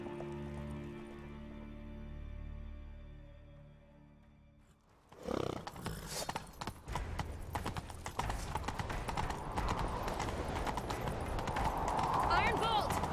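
Horse hooves pound in a fast, continuous gallop in The Witcher 3, close and loud after a quieter musical stretch, with a rushing ambient wash building underneath.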